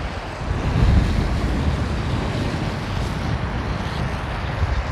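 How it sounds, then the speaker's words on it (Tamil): Floodwater rushing through open sluice gates in Araly, Jaffna, Sri Lanka, roars continuously nearby, a broad steady wash with wind buffeting the microphone, no voices heard. "அதால் தண்ணிகள் ஓடிக்கொண்டிருக்குது அந்த கட்டை தாண்டி தண்ணி வருது பாருங்கள்"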